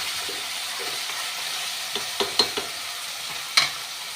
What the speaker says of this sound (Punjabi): ਧਨੀਆ ਤੇ ਪਾਲਕ ਐਡ ਕਰਤੀ ਇਹਨੂੰ ਵੀ ਮਸਾਲੇ ਦੇ ਵਿੱਚ ਨਾਲ ਹੀ ਪਕਾ ਲਾਂਗੇ